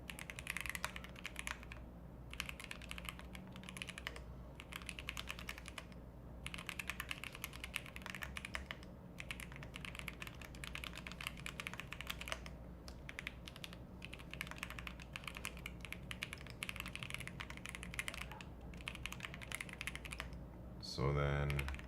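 Fast typing on a computer keyboard goes on for about twenty seconds of close, steady key clatter with brief pauses between bursts, plus a low background hum.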